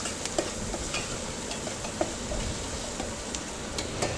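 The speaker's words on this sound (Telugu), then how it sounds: "అల్లం వెల్లుల్లి పేస్ట్ కొంచెము అందులో వేగేదాకా ఫ్రై చేసుకోవాలి" Ginger garlic paste frying in a pan while making an amaranth leaf stir-fry, a steady low sizzle with occasional light stirring clicks and taps throughout.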